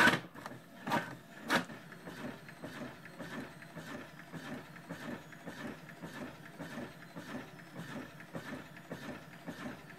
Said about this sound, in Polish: Wciśnij start. Drukowanie sobie zrobimy.